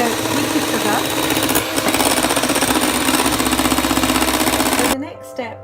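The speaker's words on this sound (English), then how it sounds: "So here I'm whisking the egg yolk with the sugar." An electric hand mixer whisks egg yolks with sugar for tiramisu, giving a loud, steady motor whir that runs for about five seconds before cutting off, followed by a brief quieter sound.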